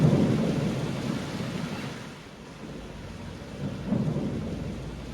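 Steady rain in an animated cartoon, a dense continuous hiss with low rumbling swells, fairly loud and even throughout, with no voices.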